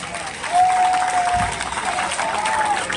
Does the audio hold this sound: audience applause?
yes